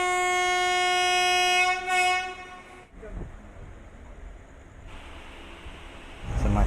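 Inside a moving passenger train in Kerala: a long, loud horn sounds for about three seconds with strong harmonics, then gives way to steady rumbling and rattling of the carriage on the rails, with a faint high whine.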